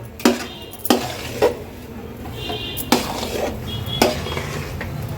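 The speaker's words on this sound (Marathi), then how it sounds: "हा आपण रव्याचा शिरा अगदी व्यवस्थित कंटिन्यू मिक्स करून घेतलाय" Semolina sheera is stirred in a pan over a low flame, a spoon clanking against the metal every second or so amid a soft, steady scraping sizzle.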